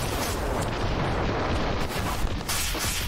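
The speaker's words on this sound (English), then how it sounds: "Incoming anti-armor rounds." Anti-armor rounds rain down in Ravenfield during a dam battle with spider mechs, a dense continuous barrage of explosions and rumbling booms, loud and chaotic with little pause.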